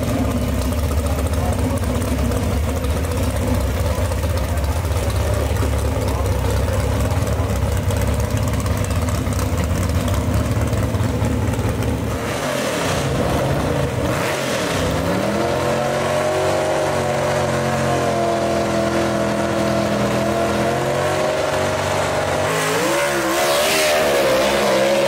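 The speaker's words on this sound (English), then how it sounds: "Sounds like some big blocks coming around the corner right there" Big-block gasser drag race car engines at a drag strip, a loud steady engine drone that dips and then swells as cars rev and come around nearby, with a brief talking voice over it.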